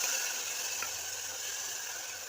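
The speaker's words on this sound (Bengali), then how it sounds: "চিকেনগুলো ফ্রাই হোক" Chicken pieces lightly frying in a pan for chatjaldi chicken give off a steady, close sizzling hiss that continues without a break. No voices are heard.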